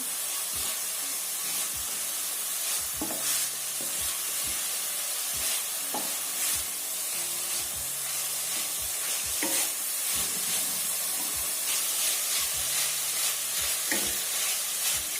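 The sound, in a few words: stirring and sautéing modak filling in a pan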